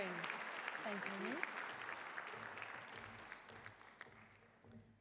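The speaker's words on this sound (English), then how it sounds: "as we give them a warm round of applause" A hall audience at a Holmesglen awards day claps in a broad, steady round of applause that slowly thins and fades, while a voice speaks briefly near the start.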